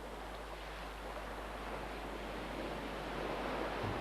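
Ocean waves breaking on an Indian beach, a steady low wash of surf that swells slightly toward the end, with no voices.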